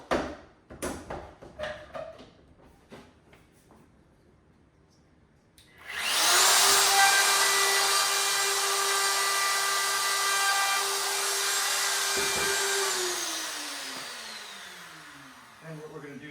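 A power sander works a wooden stair scroll in an 1884 house renovation, starting abruptly after a few light knocks and running as a loud, steady whine for about ten seconds before winding down.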